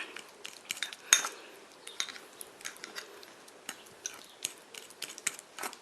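Honey, olive oil and banana being stirred and mashed together in a bowl: a close, quiet run of irregular clinks and scrapes from a utensil, with no voices.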